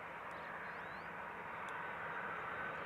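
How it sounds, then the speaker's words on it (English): A DHL Airbus A300, first flown in 1994, comes in to land on Schiphol's Polderbaan runway 18R, heard as a faint, distant, steady jet roar with no break. "You're watching a DHL Airbus A300 that had its first flight in July 1994."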